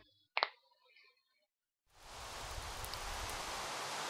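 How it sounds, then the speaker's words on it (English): Rain in a Minecraft-style block-building game, starting suddenly after a brief quiet stretch with one short blip, then a steady hiss of falling rain that holds on alone. "Oh, it's raining now."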